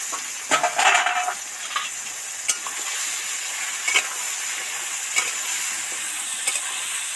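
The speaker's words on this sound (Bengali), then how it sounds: "এবার 2 রকম আলু, রাঙা আলু আর গোল আলুটাই দিয়ে দিচ্ছি।" Sweet potato and potato pieces frying with mixed vegetables in a pan hiss steadily, with occasional scraping stirs and light knocks, and no voices.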